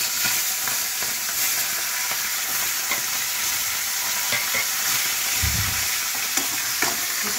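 Hilsa fish heads fry in a pan with a loud, dense, continuous sizzle and crackle, close by and unbroken for several seconds. A brief low thump comes near the end, and no one speaks.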